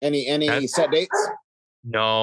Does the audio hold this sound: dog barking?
yes